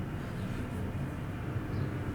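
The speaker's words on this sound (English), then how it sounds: "sorry if you can hear the trucks outside" Trucks passing outside a room make a steady, faint low rumble that fills the whole stretch without clear breaks, with no voices over it.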